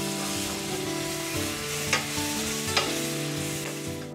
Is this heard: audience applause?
no